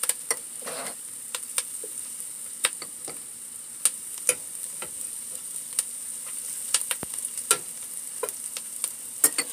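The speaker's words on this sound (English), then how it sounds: "All right, stir in the onions." Onions fry in butter in a pan with a quiet, steady sizzle, punctuated by frequent sharp ticks and crackles as the pieces pop and the spoon stirs.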